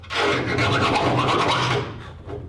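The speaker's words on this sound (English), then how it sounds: "By filing these holes, we'll be recentering them." A chainsaw file rasps steadily through a hole in a Tacoma truck's metal frame, a close, loud, continuous grinding stroke that eases off near the end.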